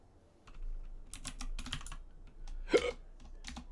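Someone types on a computer keyboard in a few quick bursts of clicking keystrokes close by, broken by a single short hiccup partway through.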